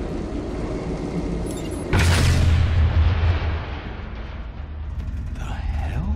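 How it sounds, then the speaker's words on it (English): A bomb explodes in the Batman Telltale Series video game: a sudden heavy boom with a deep rumble that fades over a few seconds against a steady city and traffic din. "That looked like a bomb."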